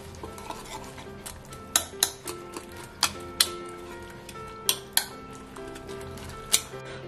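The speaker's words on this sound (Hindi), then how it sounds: "सारे चीजों को बहुत अच्छी तरीके से मिक्स कर लेंगे।" Omelette ingredients with chilli and salt are mixed in a bowl, a utensil tapping and clicking against the sides in quick irregular strikes over a low background hum, close and without voices.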